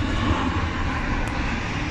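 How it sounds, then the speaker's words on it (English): A Ryanair Boeing 737 on short final approach near Manchester Airport, a loud, continuous broadband jet roar close overhead, steady throughout with no speech. "We're also going to be seeing a few planes! Right by Manchester. Airport. It was on short final."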